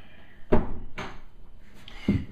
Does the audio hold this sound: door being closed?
yes